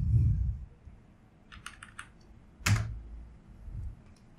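Keystrokes on a computer keyboard while CSS code is typed for a web page, a few scattered clicks and a short burst of taps, fairly close and alone with no talk.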